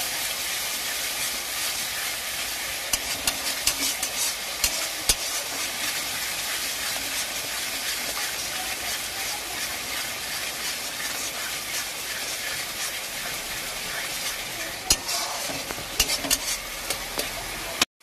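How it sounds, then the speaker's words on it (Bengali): Spice paste and yogurt being stir-fried in oil in a pan for Bengali doi katla kalia, with a steady broadband sizzle and frequent scraping stir clicks throughout, close and unbroken, no voices. "এবার দিয়ে আবার ভালো করে এবার কষিয়ে নিচ্ছি মশলার সাথে, দইটার সাথে"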